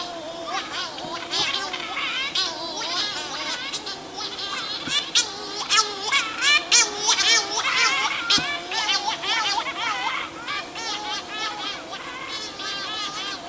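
Petrels call at night in a field recording: dense overlapping chattering, squealing cries from many birds at once, continuous and fairly close throughout.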